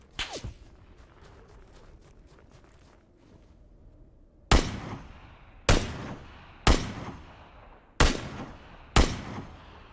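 PUBG on Xbox One X, on the Vikendi map: after a stretch of faint rustling and movement, five sharp, loud gunshots ring out, spaced about a second apart, each trailing off in a short echo.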